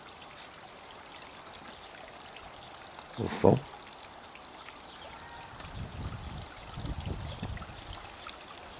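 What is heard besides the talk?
small waterfall flowing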